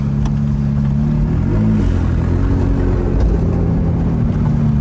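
A McLaren 675LT launches hard, its engine a loud, steady low roar heard from inside the car, holding a dense droning tone with a slight pitch shift midway.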